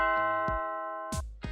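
A doorbell rings: sustained bright chiming tones ring out, then cut off, followed by a couple of short clunks and a second brief chime.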